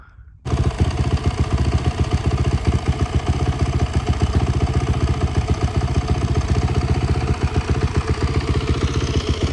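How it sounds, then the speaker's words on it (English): A motocross motorcycle engine starts and idles while warming up in snowy March weather, a loud, close, steady rapid putter with a rough mechanical clatter that holds evenly throughout. "Getting the bike warmed up."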